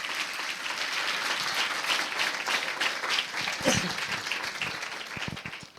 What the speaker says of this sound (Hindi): अरे तालियां नहीं बजा सकते प्रभु के नाम में?